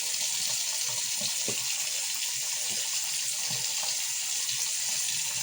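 Tap water runs steadily into a sink during face washing, a continuous close hiss of flowing water with no speech.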